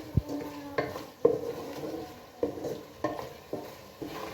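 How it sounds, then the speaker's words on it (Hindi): Masala spices, including salan masala and whole red chillies, stirred and roasted in a pan for an aloo gajar salan. A spoon scrapes and knocks against the pan in irregular strokes over a faint sizzle, close up with no talk. "अब ये इसमें सारे मिक्स करेंगे। अच्छी तरह से हम इसको भून लेंगे।"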